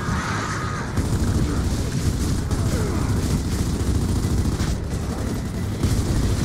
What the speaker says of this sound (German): Was schießt denn der dauernd Granaten auf uns?